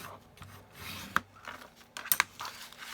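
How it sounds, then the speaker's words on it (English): A folded paper card for a reindeer gift card holder is burnished with a tool, giving short soft rubbing and scraping strokes close up, with a few brief sharper clicks and no talk. "And I am going to crisp it now, or burnish it."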